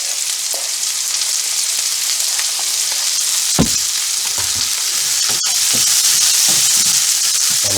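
Garlic frying loudly in a hot pan for Bicol Express, a dense crackling sizzle up close, with a few sharp scrapes and stirring knocks, and no voices.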